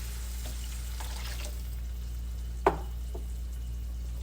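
Low steady sizzle of a pan of turmeric yellow rice after chicken broth and water have been added, with a single sharp clatter midway and faint stirring scrapes, no voices.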